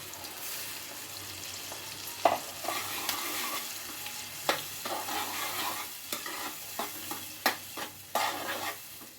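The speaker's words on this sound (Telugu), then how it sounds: "టమాటా వేపిస్తున్నాను" Tomatoes frying in oil with crushed garlic and onion, a constant close sizzle punctuated by repeated sharp scrapes and taps of a spatula stirring the pan.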